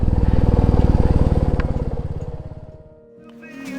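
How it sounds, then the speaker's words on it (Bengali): A motorcycle being parked at the Garden of Caves near Cherrapunji chugs at a loud, close, rhythmic idle that slows and fades as the engine winds down and cuts out, leaving a faint rumble. "এবারে বাইকটা পার্ক করতে হবে।"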